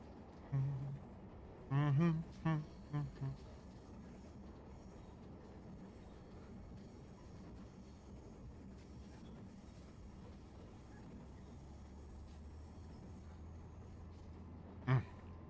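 A train rolls along the tracks with a steady low rumble and rattle throughout, close and continuous, while a voice briefly sounds at the start and a sharp clack cuts through near the end.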